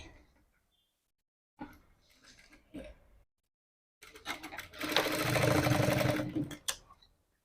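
A sewing machine stitches blouse hangings in short bursts, then runs in a longer, steady stretch, close and clear with no talk.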